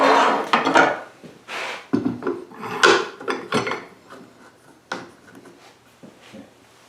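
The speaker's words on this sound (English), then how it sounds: "I'm going to clamp it in place." A stop block is slid along a woodworking fence and clamped to the wood. Close, loud wooden scrapes, knocks and rubbing come in an irregular series of bursts that fade into quieter handling.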